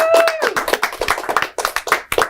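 Clapping from an audience at a high school poetry slam, a short burst of scattered claps that opens with a voiced cheer and stays sparse and uneven throughout.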